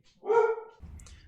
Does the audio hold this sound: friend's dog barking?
yes